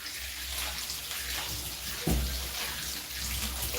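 Tap water runs steadily while green onions are rinsed under it, a continuous close hiss with a brief louder splash partway through.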